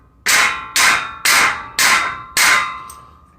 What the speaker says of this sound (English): We're going to take the hammer